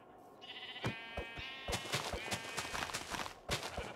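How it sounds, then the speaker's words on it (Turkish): Sheep bleat repeatedly and clearly in Minecraft, near and loud, over a steady patter of footsteps and clopping steps. "Ooo koyun! Koyun bulduk!"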